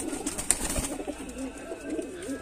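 Domestic pigeons coo softly in a home loft, with several low, rolling coos repeating close by over faint background noise.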